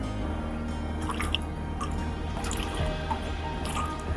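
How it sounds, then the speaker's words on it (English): Water dripping from a soaked kitchen sponge, a few scattered light drips over a steady low background hum, quiet and close, no voices. "Can you see the water dripping?"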